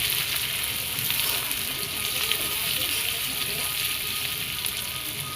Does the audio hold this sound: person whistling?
no